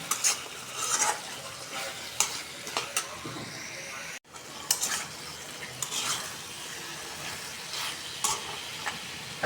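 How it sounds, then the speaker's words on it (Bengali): Vegetables sizzle as they are sautéed in a pan, with a soft, continuous frying hiss broken by intermittent stirring scrapes and utensil knocks. "সবজিটা একটু কষাই নিই, তারপরে পরে দিব আমি ফুলকপিটা।"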